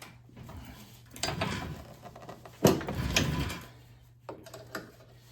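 A wrench loosens a 15mm jam nut on a Polaris Rush ProRide snowmobile, giving several close metallic clicks and scraping ratchet-like movements spread over a few seconds of quiet workshop sound.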